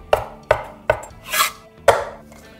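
A knife chops basil on a cutting board in four sharp, evenly spaced strikes, close and distinct, with a brief scrape of leaves between the third and fourth cuts.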